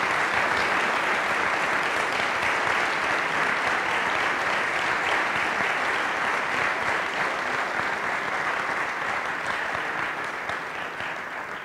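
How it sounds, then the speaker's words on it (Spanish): A large audience at a municipal public accounts ceremony in Cauquenes claps in a long, sustained round of applause, dense and even, fading slightly toward the end. "Un aplauso gigante"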